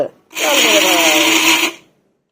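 A mixer grinder whirs loudly for about a second and a half as it grinds dry face mask ingredients, starting abruptly and cutting off cleanly, heard close with no talk over it.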